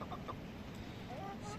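Rescued hens on a small poultry farm cluck softly and sporadically against steady background noise, with a person talking nearby.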